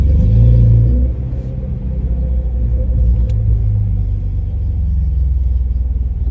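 Exhaust of a manual Toyota Tacoma fitted with URD extractor pipes and a Y-pipe, heard from inside the cab with windows down: a loud, deep rumbling drone that swells at the start, then settles into a steady throbbing cruise.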